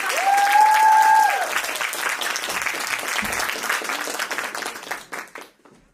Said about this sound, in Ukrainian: Тому від вас оплески, підтримка